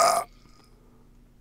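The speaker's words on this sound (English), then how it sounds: "Got a male borp." A male burp from a stock sound-effects library: one short, loud, raspy belch lasting about a quarter second, then near silence.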